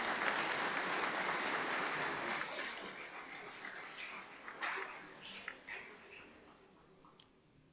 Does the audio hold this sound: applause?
yes